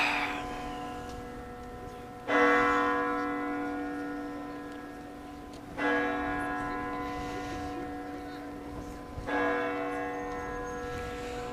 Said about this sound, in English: The clock strikes 8.